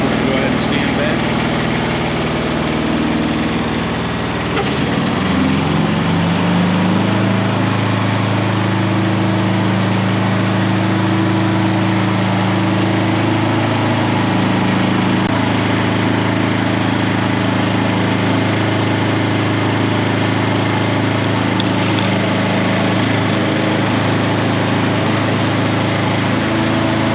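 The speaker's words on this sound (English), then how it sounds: "turn the engine off so we can all hear each other" A Palazanni TZX 730 compact tracked spider lift idles with its engine running steadily, a loud, continuous low drone close by that lasts throughout, with someone talking over it.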